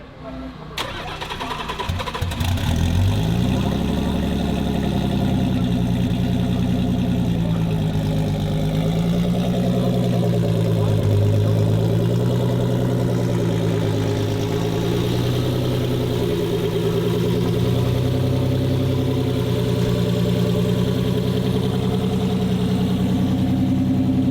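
A high-horsepower drag car, a wide-body Nissan built for drag racing, cranks and fires, then settles into a loud, rough, lumpy idle that holds steady for over twenty seconds, close up, with people talking nearby.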